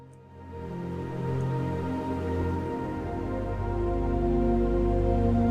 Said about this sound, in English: I did make some dreamy pads